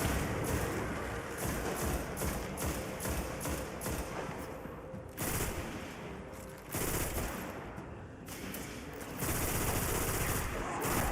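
Sustained rapid auto rifle fire in Destiny 1, played on PS5, rattles in long dense bursts with brief pauses, loud and continuous over game ambience.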